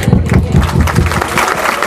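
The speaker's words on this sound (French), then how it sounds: "Applaudissements" Audience applause at a graduation ceremony, steady dense clapping filling the hall at close range with a murmur of crowd underneath.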